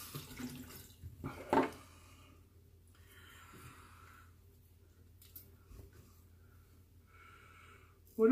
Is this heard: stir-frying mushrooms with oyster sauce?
no